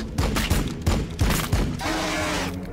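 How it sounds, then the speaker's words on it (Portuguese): Rapid gunfire in Warhammer 40K: Battlesector crackles in several quick bursts, loud and close, followed by a rougher sustained rattle. "Tiros, muitos tiros."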